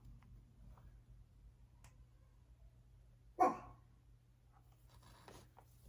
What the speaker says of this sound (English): that's my dog. She barks at everything.